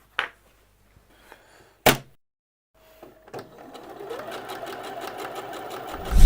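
Scattered knocks and thuds come first, then a sewing machine starts up and whirs steadily, stitching a pocket onto a cotton apron, growing louder toward the end.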